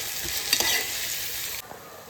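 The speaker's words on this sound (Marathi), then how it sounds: "आता मिरच्या, कांदा, टोमॅटो मस्तपैकी शिजवून घेऊ आपण" Chillies, onion and tomato frying in oil in a pan, a close, even sizzle with a brief louder stir in the middle, then quieter at the end.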